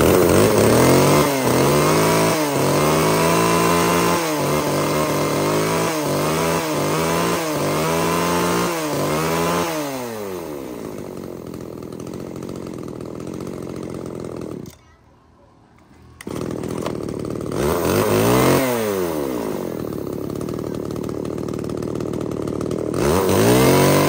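A used Japanese mini chainsaw engine is started and test-run, revving loudly in repeated bursts, dropping to idle, cutting out briefly, then revving up again close by.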